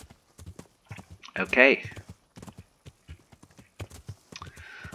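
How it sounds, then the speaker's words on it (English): Horse hooves clip-clop at a walk while riding in the video game Kingdom Come Deliverance, with a brief whinny, all under someone talking over the gameplay. "it's okay to ride the horse"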